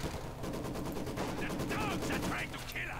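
A Maxim machine gun fires in Company of Heroes 2, a loud, rapid, steady stream of shots through the whole stretch over battle noise and faint chirping effects.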